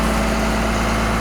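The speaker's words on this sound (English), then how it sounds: "Cummins diesel" A Cummins diesel in a 2003 Blue Bird 28-passenger commercial bus idles close by, a loud, steady low rumble with no break.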